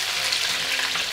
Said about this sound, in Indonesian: Kita goreng terus dulu ya.